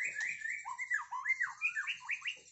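A Nias pastol songbird, a young male, sings a quick run of clear, bright whistled chirps and warbling phrases, up close and alone with no talk.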